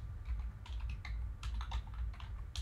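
Rapid typing on a computer keyboard while coding, with irregular bursts of clicky keystrokes, close and fairly loud, alone with no speech.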